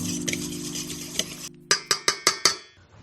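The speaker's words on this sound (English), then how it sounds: "Just give it a mix." Whisk or spoon stirring heavy cream with salt and pepper in a mixing bowl, a brief swishing blend followed by five or six evenly spaced metallic clinks against the bowl, close and clear.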